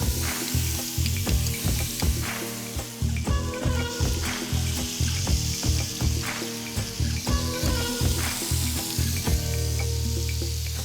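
Sirloin steaks sizzle steadily on a hot griddle, a loud, close, continuous frying hiss with crackling pops and a few scraping stirs, with no talking.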